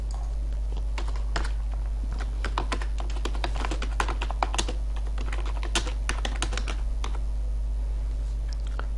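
Rapid keystrokes on a computer keyboard while typing text into Notepad, a dense, close clatter of clicks over a constant low hum.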